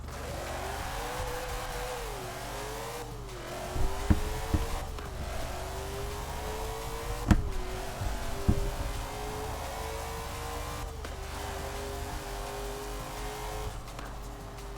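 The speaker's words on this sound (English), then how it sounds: "Alright, I'm going to get back into the Ford GT." A 1964 Ford GT40 Mk 1 in Forza Horizon 4 drones steadily with engine pitch rising through the gears and dropping at each shift, with a few brief thumps and tire noise, no talk.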